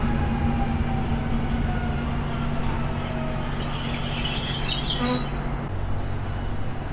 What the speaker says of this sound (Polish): Leniwie przemieszcza się kolejna AKMK, która tutaj podjechała jako skład służbowy.